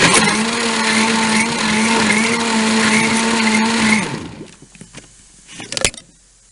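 An electric mixer briefly beats chocolate and coffee cupcake batter, giving a loud, steady motor whir for about four seconds. It then cuts off, leaving a few faint clinks and knocks.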